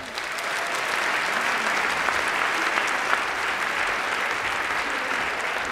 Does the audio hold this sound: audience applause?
yes